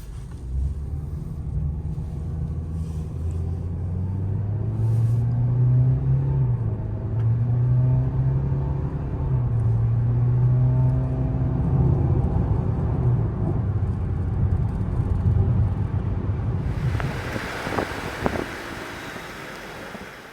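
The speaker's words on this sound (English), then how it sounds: "Let's accelerate onto the highway here." A 2023 Toyota Corolla LE accelerates onto a highway, heard from inside the cabin: the engine note climbs in stepped rises over steady wind and road noise, then eases off, with no one speaking.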